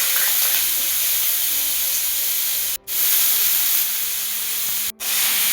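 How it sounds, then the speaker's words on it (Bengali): Chopped carrots frying in hot oil in a wok give off a bright, continuous sizzle up close, broken by two very brief cuts to silence. "কড়াইয়ে তেল গরম করে গাজর কুচিগুলো"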